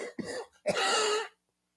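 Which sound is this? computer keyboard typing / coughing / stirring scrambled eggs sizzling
coughing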